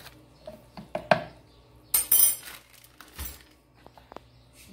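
Metal spoons clink and scrape against a container while baking soda is added to a homemade soap mixture of oil and bleach, a few sharp clatters with quieter taps between them, close by and with no talking.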